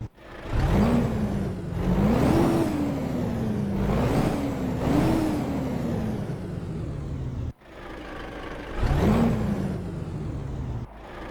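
A heavy truck engine revs up and down in repeated swells, its pitch rising and falling, with an abrupt cutoff before climbing again.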